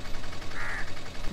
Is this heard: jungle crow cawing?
yes